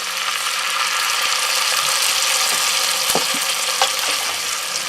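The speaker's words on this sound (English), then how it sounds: "When our butter is melted, we're ready to add our dry sherry." Dry sherry hits melted butter in a hot pan and sets off a loud, steady sizzle and hiss, with a few faint clinks from the pan and utensil.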